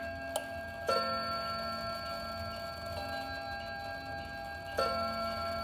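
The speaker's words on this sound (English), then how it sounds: "So it just counts out the hour." A mid-century Haid clock with an FHS 141-030 movement chimes the hour in a few sparse, clear strikes up close, each ringing tone hanging on in a long sustained decay in a quiet room.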